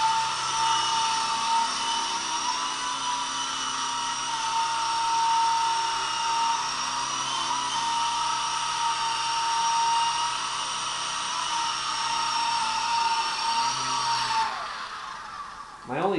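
A Sky Rover toy RC helicopter flies indoors with a steady high-pitched rotor and motor whine, holding level for most of the stretch before the pitch sweeps and fades near the end as it lands or throttles down.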